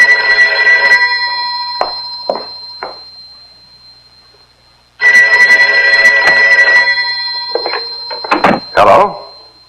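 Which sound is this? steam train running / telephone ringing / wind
telephone ringing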